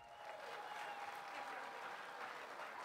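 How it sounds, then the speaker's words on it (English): Steady applause from a gala audience for the winning bidder at a charity auction, an even wash of many hands clapping throughout, heard faint and distant. "Let's give them a big round of applause."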